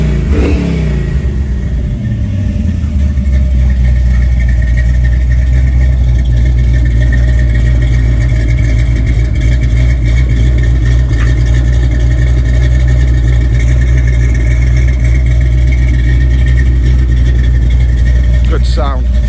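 A 1972 Chevrolet Chevelle's engine runs loud and close, rumbling steadily with a rev rise early on and strong low-end throb throughout, while people talk over it.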